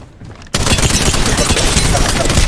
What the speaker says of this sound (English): Some plant is shooting at me.